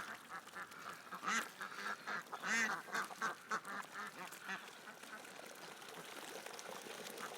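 Ducks quack in a busy cluster of calls over a steady background wash, loudest in the middle and then tapering into quieter ambient noise.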